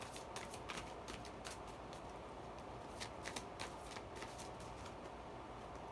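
Oracle cards from a Witch's Wisdom deck being shuffled by hand, a steady papery riffle of flicking cards that runs without a break at close range, with no talk over it.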